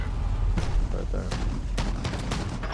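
Shotgun blasts in Call of Duty Modern Warfare, several booming reports a fraction of a second apart, loud and close, with players chatting over the gunfire.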